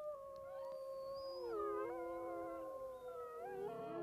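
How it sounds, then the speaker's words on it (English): Rival wolf packs in Yellowstone howl back and forth across a snowy valley, several long, overlapping, rising and falling voices layered into a sustained chorus, fairly loud and steady, with no talking. "The howls of the rival packs volley back and forth across the valley."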